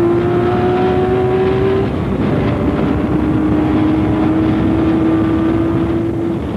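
A race car at the 1977 24 Hours of Le Mans runs behind a Porsche 935. A loud, continuous engine roar with a steady whining tone holds up close without a break.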